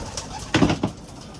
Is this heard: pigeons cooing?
yes